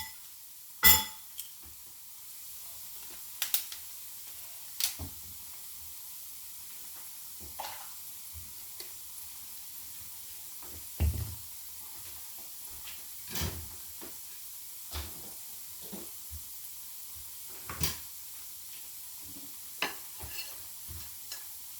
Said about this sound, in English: And it doesn't take long to fry.